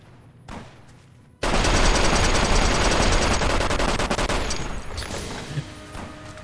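Bozar light machine gun in Fallout: New Vegas firing a long, loud sustained automatic burst after a brief quiet moment, rattling continuously at close range.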